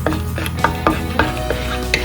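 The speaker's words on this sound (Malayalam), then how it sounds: "എണ്ണ ചൂടായപ്പോൾ ഞാനൊരു 3-4 ഏലക്കായും ഒരു പീസ് കറുവാപ്പട്ടയും 2-3 ഗ്രാമ്പും കൂടി ഇടുന്നുണ്ട്." Whole cardamom pods, a piece of cinnamon and cloves are stirred in hot oil in a wok, giving a close, soft sizzle with a few brief clinks of a utensil against the pan.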